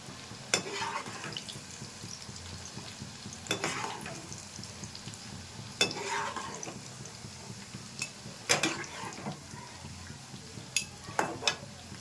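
Chushi pitha frying in a wok gives a steady low sizzle broken by several sharp scrapes and clinks of a utensil stirring against the pan, spaced a few seconds apart.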